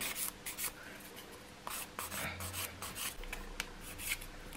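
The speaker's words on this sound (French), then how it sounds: "je viens repasser un léger coup de lime" A nail file rasps across fingernails in steady back-and-forth strokes, a close, dry scratching that comes in short repeated bursts with brief gaps.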